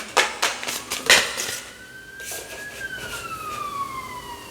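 A siren wails faintly in the distance, its tone rising then slowly falling, with a few sharp knocks and clatters up close early on.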